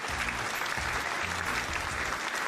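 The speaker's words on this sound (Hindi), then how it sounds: "एक बार जोरदार तालियां हो जाएं." Audience applause after a stage performance at an event, steady dense clapping throughout at moderate loudness with no speech.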